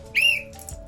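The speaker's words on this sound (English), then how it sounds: "Here's the built-in whistle." A built-in whistle on a running pack, blown once in a short, shrill, high-pitched blast of about a quarter second, close and fairly loud, over quiet background noise.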